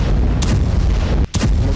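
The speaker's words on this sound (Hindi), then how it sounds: "आईडीएफ ने अब दाहिया में 2 बड़े विस्फोट को अंजाम दिया है।" Explosions from bombing in Dahiyeh, Beirut, heard as a dense rumbling roar with sharp bursts and a brief dip before another blast.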